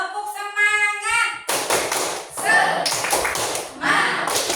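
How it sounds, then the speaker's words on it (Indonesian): A classroom group performs the tepuk semangat spirit clap, sharp rhythmic claps in a patterned sequence with voices chanting along, following a short spoken cue at the start. "kita tepuk semangat dulu ya"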